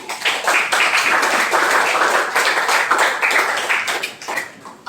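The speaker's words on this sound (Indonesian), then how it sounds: "Give applause to Nian." Students in a classroom applauding a classmate, a sustained, fairly loud round of clapping from many hands that tapers off near the end.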